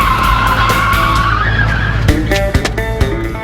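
Two cars joined side by side skid hard through a full-lock turn at 65 km/h, a loud sustained tire squeal over engine noise, breaking into choppy squeaks and thumps near the end.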